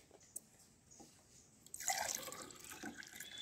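Water pours into a glass for a science-day project, starting as a quiet trickle and then filling into a louder, steady splashing stream, with no one talking.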